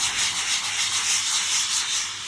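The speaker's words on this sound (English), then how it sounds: "If you look, I'm sanding the edge of it." Sandpaper rubbing along the edge of painted trim to level dried paint drips, a steady close scratching hiss with a light back-and-forth pulse over about two seconds, no voices.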